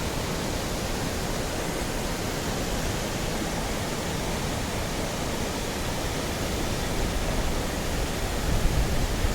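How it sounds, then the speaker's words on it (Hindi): A large main waterfall pours with a constant broadband roar, dense and steady throughout, heard close with no speech over it. "And this is the main waterfall over here."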